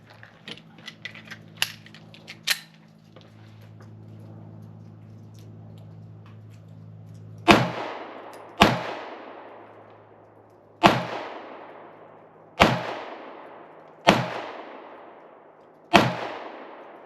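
A Canik Mete MC9 9mm pistol fires six Fiocchi 115 grain FMJ rounds outdoors at a range, sharp loud reports spaced about one to two seconds apart, each with a short decaying echo, preceded by quiet handling clicks.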